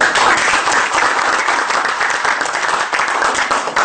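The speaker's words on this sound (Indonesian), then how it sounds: "Tepuk tangan dong." Loud, dense audience applause at a motivational business seminar, many hands clapping in a steady continuous roar with small swells.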